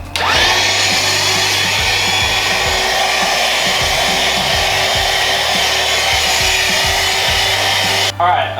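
Continuous loud whine of a vacuum cleaner working over an aftermarket Recaro car seat from a Honda Integra, steady and close for about eight seconds before cutting off abruptly near the end.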